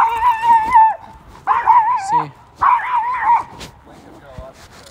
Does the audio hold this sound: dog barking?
yes